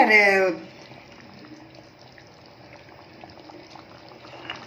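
Red pumpkin with chana dal and moong dal simmers in a pot, a soft, low bubbling and gurgling that runs quietly on its own after a brief voice at the start.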